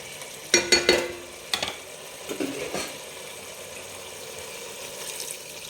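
Chicken curry being stirred in a pot with water added: a few sharp scraping clanks of a spoon against the pot early on, then softer stirring and a low simmering wash, close and without talk.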